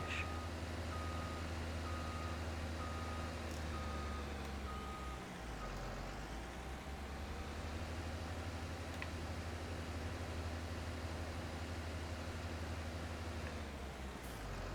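Reversing beeps from a wheel loader in Farming Simulator 19 repeat as a steady tone over a constant, loud engine drone, with no talking.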